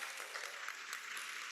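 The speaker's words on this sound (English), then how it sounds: "Please give both candidates a round of applause." An audience at a school board candidate forum in a church hall gives a round of applause, a steady wash of clapping at moderate distance.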